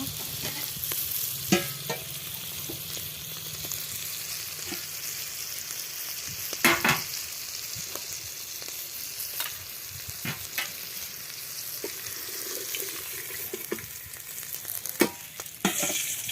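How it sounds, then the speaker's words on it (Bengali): Dried shutki fish fries in oil with a continuous low sizzle, punctuated by occasional clinks and scrapes of a spatula stirring the pan. "শুকটি মাছগুলো ভাজা হয়ে গেছে"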